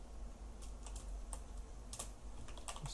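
Computer keyboard typing Java code: quick, light key taps in an uneven rhythm, close but quiet over a low background hum, with no talk.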